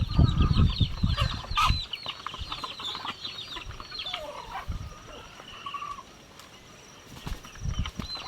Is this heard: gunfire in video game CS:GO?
no